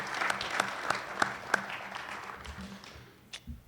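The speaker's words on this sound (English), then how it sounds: "Let's give them a round of applause." Audience applause at a university athletics winter senior celebration, a burst of clapping with sharp individual claps up front that thins out and fades toward the end.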